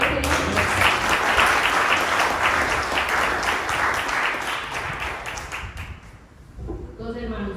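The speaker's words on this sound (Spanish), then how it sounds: "¿Puede dar un fuerte aplauso al Señor?" A church congregation gives a loud, sustained round of applause at a service, dense clapping filling the room for several seconds before thinning out near the end.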